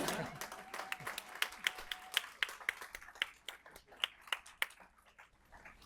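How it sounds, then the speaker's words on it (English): A small audience at a nurse awards ceremony claps in a sparse, uneven burst of individual hand claps that thins out and fades toward the end, fairly quiet and close. "We can clap."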